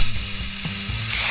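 Spray can rattle: steady, loud, dense metallic hiss and grind with rhythmic ratcheting clicks throughout, close and alone with no voices.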